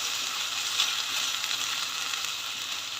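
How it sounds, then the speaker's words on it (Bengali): Ginger and garlic paste frying in a pan, giving a steady, even sizzle that stays close and constant throughout with no talking. "আদা বাটা রসুন বাটা একটু ভেজে নিচ্ছি"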